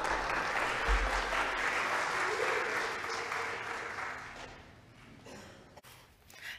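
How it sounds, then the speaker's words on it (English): A church congregation gives a warm round of applause during Sunday worship. The clapping is steady at first and then thins out and fades, with a few scattered sounds after it. "please give a big round of applause for Children's Moment"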